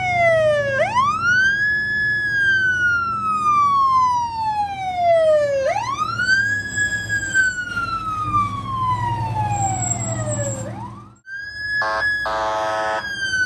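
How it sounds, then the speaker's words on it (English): A vintage 1970s fire truck siren wails loudly and close by in three long rising and falling sweeps, with a short blaring horn blast near the end. "recording all of these vintage 1970s fire trucks with the original air horns and sirens."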